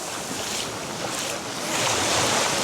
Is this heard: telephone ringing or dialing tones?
no